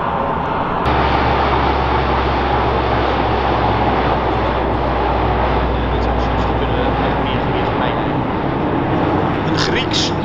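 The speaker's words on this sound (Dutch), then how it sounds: "Een Grieks vliegtuig C-130 Hotel" Steady, loud propeller drone with a deep engine rumble, continuous throughout, as a Greek Lockheed C-130 Hercules flies close overhead at a paratrooper drop.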